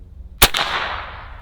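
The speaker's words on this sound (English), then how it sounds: "listen to how loud this thing sounds without the moderator. It's literally like a gunshot going off" A single loud, sharp crack from a Barra 250z air rifle fired without its moderator, sounding like a gunshot, with a bright burst and a short reverberant tail fading over a second in a backyard.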